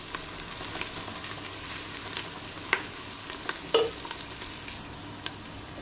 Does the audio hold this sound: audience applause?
no